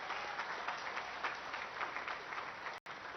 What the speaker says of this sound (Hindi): विकाराबाद की तालियां मुझे सुनाई देनी चाहिए, हैदराबाद तक जानी चाहिए। चलो तालियों की गड़गड़ाहट से।